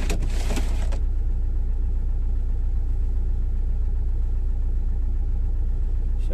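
A car engine runs steadily while driving into town on a snowy December morning, a constant low rumble throughout with a brief burst of brighter noise at the start.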